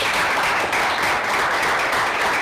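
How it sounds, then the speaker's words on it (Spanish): Sustained applause from a church congregation at a Spanish-language spiritual workshop, many hands clapping in a dense, steady wash that fills the whole moment without any voices. "Denle un fuerte aplauso a la palabra de Dios"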